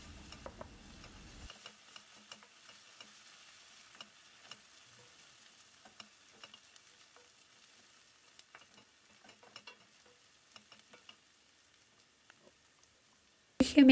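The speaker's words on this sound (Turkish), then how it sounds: "Karıştırarak kavurmaya devam edelim." Onion and pepper paste sizzles gently in a pan while being stirred, a faint continuous fry broken by small scraping ticks throughout, with a louder clatter right at the end; no talking.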